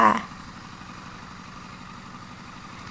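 A farm trailer truck's engine idles in a low, steady rumble after a brief louder burst at the start, running evenly and moderately close.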